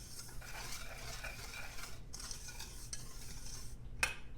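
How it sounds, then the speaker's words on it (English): A small whisk stirs a cornstarch mixture in a pan, giving a faint, steady scraping swish with a tiny clink near the end and no talking. "This is one of my smaller whisks. Just gently stir that together."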